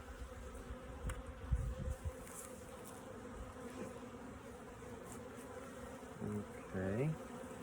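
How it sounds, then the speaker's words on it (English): Dense, continuous buzzing of many honeybees around a hive at a bee farm, close and steady, with a few individual bees droning louder as they pass near. "you can see there's quite a few bees here"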